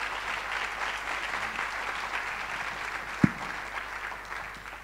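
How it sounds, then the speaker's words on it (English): Audience at a Boston College film discussion applauds steadily for the full stretch, a dense wash of clapping with one sharper clap near the end and no voices on top. "Please give her a round of applause."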